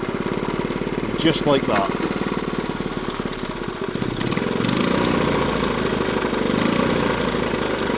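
Motorcycle engine kicked over with the kickstarter, catching and settling into a steady, loud idle with a rhythmic mechanical chug; someone talks briefly over it.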